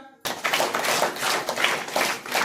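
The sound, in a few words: audience clapping to welcome the committee chairman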